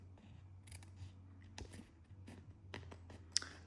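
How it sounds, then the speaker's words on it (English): Scissors snipping a custom sleeve for a Sorcery TCG game token, trimmed close to the seal with not-too-sharp blades; several quiet, close, separate cuts and clicks over a faint low hum. "we'll get the scissors and we're going to cut"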